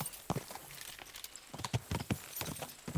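Horse hooves clip-clopping at a walk in the video game Kingdom Come: Deliverance II, a loose irregular run of hoof knocks, close and moderately loud, with no voices.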